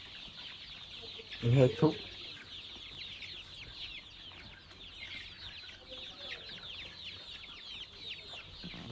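A flock of chickens clucking in a pen, with a loud burst of squawking near the start as the birds peck at each other and fight, then softer steady clucking and chirping, with a brief word from a person.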